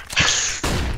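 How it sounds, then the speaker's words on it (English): Flashbang grenade detonating in CS:GO, a single sharp burst followed by a bright sustained ringing that cuts off abruptly, then a low rumble of game ambience. "The flashbang bounced back inside the house."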